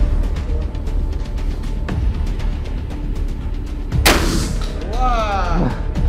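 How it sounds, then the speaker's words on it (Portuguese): A 12-gauge shotgun fired once at an outdoor shooting range, a single loud blast midway echoing over steady background noise, with a voice heard faintly in the surroundings. "E agora, a Luana vai tirar com a espingarda calibre 12"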